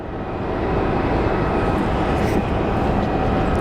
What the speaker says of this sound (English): There's our Alaska Airlines plane